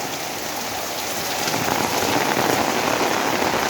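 Steady, dense rainfall pours down on surfaces, a continuous hiss that swells slightly louder partway through, with no voices.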